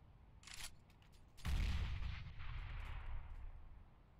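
Gunfire in the video game CS:GO: a quick burst of shots is followed by a heavier blast that booms and decays into a rumbling tail, moderately loud with no talk.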